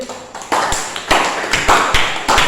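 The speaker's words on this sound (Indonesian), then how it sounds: "Kita beri aplaus lagi." Classmates in a classroom give a round of applause, heard as a close burst of clapping with sharp claps that rise and fall across the moment.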